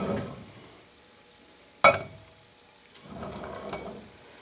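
A homemade lazy susan display turntable turns with a low mechanical grinding rumble, interrupted by one sharp clack, then a second rotating grind.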